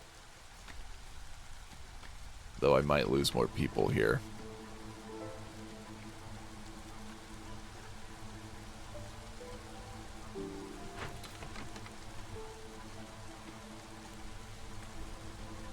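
Steady drizzle falls in the video game Against the Storm, a soft continuous hiss of light rain beneath quiet game music, with someone speaking briefly near the start.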